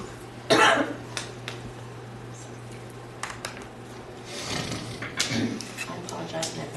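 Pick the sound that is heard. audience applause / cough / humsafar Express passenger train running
cough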